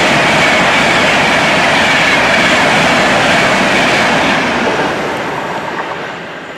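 Train rolling loudly through a railway station, a steady close rumble with wheel clatter and rail noise that fades slightly toward the end, no voices.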